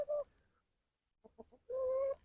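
A chicken clucking near the flock, two drawn-out calls separated by a quick run of short clucks, close and clear with quiet gaps between.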